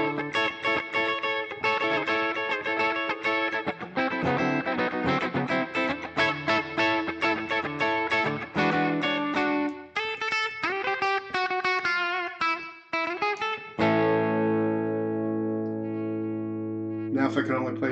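An electric guitar played through a Boss Katana 100 amp on a clean, reverb-washed setting rings out in strummed chords and picked notes, loud and close, ending on long sustained chords that fade into echo.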